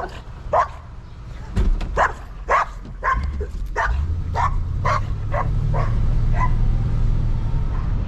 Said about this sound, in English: She's barking her head off.